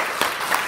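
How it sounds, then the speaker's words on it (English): A congregation claps its hands in praise during a morning church service, a brief burst of crowd applause with a couple of louder swells, heard alone without talk. "let's give a hand clap of praise to our God this morning"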